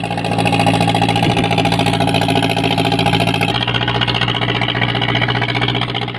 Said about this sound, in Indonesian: Perahu mulai melaju menuju ke Bagan Tancap untuk melakukan penangkapan ikan.